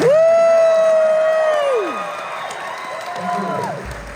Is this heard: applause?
yes